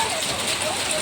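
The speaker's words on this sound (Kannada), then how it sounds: "ನೋಡಿ ನೋಡಿ ಇಲ್ಲಿ ಈ ಥರ ಆನೆಕಲ್ ಮಳೆ ನೋಡಿದ್ರ" Hailstorm rain pelting down in Ripponpet, a dense continuous patter on surfaces, loud and close, with faint talk underneath.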